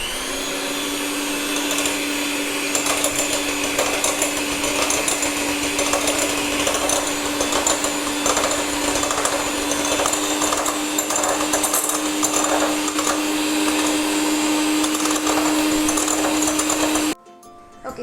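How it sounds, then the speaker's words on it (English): Electric hand mixer beating eggs with sugar to stiff peaks, a loud, close, steady motor whine that holds unbroken for about seventeen seconds before abruptly cutting off. "now using your electric mixer, we beat it until it forms stiff peaks"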